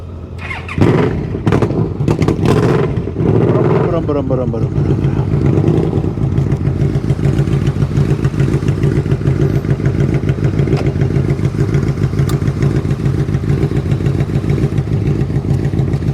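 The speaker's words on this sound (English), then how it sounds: "There's David's bike right there. We got Royal Star" A motorcycle engine runs loud and close during a Sunday group ride, with a few clattering bumps at the start, then a steady, even throbbing drone that holds for the rest of the stretch.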